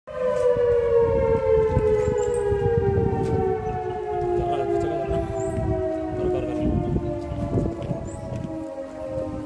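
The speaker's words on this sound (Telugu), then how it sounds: "మా పోలీస్ వారు పర్సనల్గా సైరన్ వేసుకుంటూ అన్ని రెడ్ జోన్ ఏరియాల్లోనూ" A police siren sounds through red zone areas of Nandyal town in Kurnool district during a coronavirus outbreak, a loud, steady, slowly wailing tone that carries on alone for the whole stretch with no voices.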